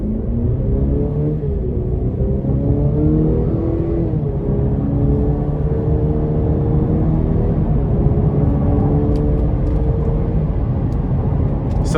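Engine note of a 2025 Cadillac CT5 accelerating hard in sport mode, a loud steady rising drone with audible upshifts, heard from inside the car, without talk.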